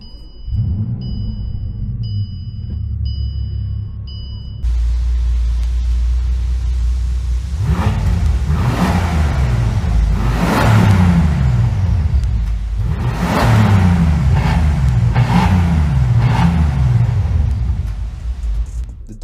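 A Bentley twin-turbo W12 engine, built from two VR6s, idles low and then revs hard several times in repeated surging bursts, loud and close with no talk.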